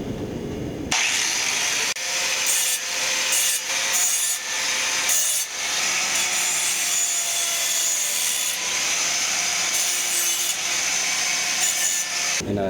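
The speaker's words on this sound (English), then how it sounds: "I'm going to be putting this grinding wheel on the angle grinder instead of the cutoff wheel to clean up the" An angle grinder fitted with a grinding wheel works the edges of a steel tomahawk, a loud continuous abrasive grinding broken by brief pauses as the wheel is lifted and pressed back on.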